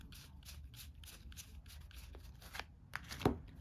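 Playing cards for the Ghostbusters II board game shuffled and handled by hand, a steady soft papery riffling close up, ending in a few sharper flicks and slaps.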